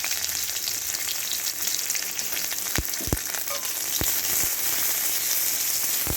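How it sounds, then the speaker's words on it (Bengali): Onion frying in a little white oil, the start of an aloo potol dish, gives a steady close sizzle with a few sharp crackles and pops around the middle; no voices. "একটু গোল্ডেন করে পেঁয়াজটাকে ভেজে নিচ্ছি"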